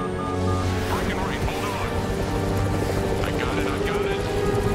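Helicopter in Serious Sam 3 flying steadily with a continuous rotor and engine drone, loud and constant, while people talk over it.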